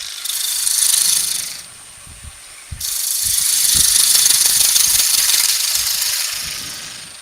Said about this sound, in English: Notice how the chisel moves across?